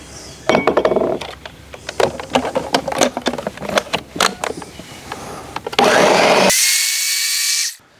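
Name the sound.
blender pureeing jalapenos with peach preserves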